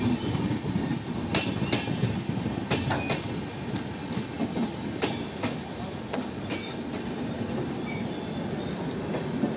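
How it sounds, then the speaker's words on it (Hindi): Intercity Express passenger train number 14682, running between Jalandhar and New Delhi, rolls along the rails with a steady loud rumble, wheel clatter and occasional high squeals from the wheels, with no talk over it. "ये रही अपनी ट्रेन जिसका नंबर है 14682"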